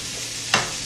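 Thinly sliced flank steak sizzles in a hot pan beside onions, a steady frying hiss broken once by a sharp crackling burst as the meat is stirred.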